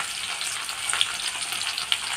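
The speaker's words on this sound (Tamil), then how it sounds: "எண்ணெயில் போட்டு வதக்கிக்கலாம்." Small shallots sautéing in hot oil give a continuous bright sizzle and crackle with faint stirring scrapes throughout, heard alone at close range.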